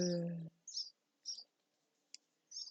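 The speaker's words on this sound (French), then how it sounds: "on entend encore les petits oiseaux" Small birds chirping outdoors in the early morning, a few short high twittering calls spaced apart at moderate distance, following a brief bit of speech at the start.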